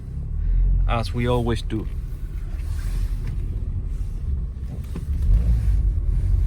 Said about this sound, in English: Let's put it in drive and go around the lot